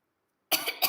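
A short, close throat clearing with two quick rough bursts, heard alone with no talking.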